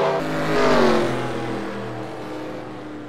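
Race cars accelerate along the backstretch of Richmond Raceway, a loud engine whine that swells and then fades as the pack sweeps past at close range.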